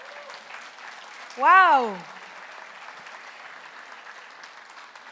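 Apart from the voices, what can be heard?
applause from church audience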